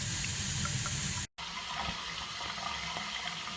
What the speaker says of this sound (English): So it's backwashing the resin now, and looks like it's coming out clean